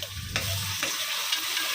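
Ginger-garlic paste sizzling and frying in a hot pan with a steady crackling hiss, a few stirring scrapes, close by.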